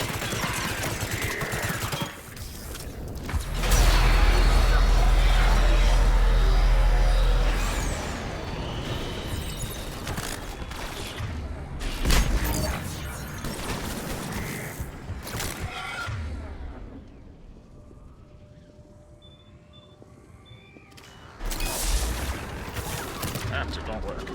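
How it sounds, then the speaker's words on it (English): Turret gunfire in the Mass Effect 3 Legendary Edition finale booms in a loud, dense burst of several seconds, among other combat noise, with someone talking over parts of it. "Turret."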